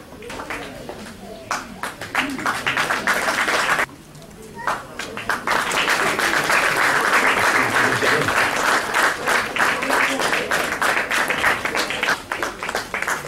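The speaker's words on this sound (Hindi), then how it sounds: "पीछे वाले लोग तालियां थोड़ी कम बजा रहे हैं" Sustained applause from an audience at a school awards event, dense and loud, briefly dipping before swelling again into steady, even clapping that fills the room throughout.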